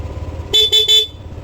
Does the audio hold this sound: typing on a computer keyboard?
no